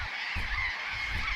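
Burrowing parrots calling in a dense colony of burrows dug into earthen ravine banks in the Atacama, a continuous chorus of harsh, honking squawks close by with no pauses.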